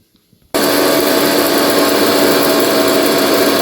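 A mixer grinder starts abruptly after a brief quiet, grinding dry masala and coconut with a loud, steady high-pitched whir that holds constant to the end.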